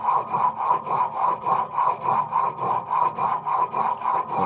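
A steel blade held in a cheap honing guide is pushed back and forth across a sharpening stone, giving a steady, rhythmic scraping of about two strokes per second, close and moderately loud with no talking.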